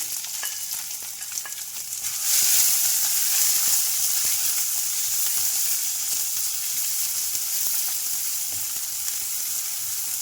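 Crushed ginger, onion and garlic frying in a pan for rasam, a steady close sizzle that jumps louder after a couple of seconds as they hit the hot oil, with faint stirring underneath.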